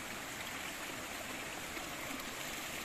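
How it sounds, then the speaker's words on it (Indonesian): A small, natural river full of rocks, with very clear water running from a mountain spring, flows steadily in a continuous, broad rushing wash with no voices. "Sekarang kita berada di sebuah kali kecil."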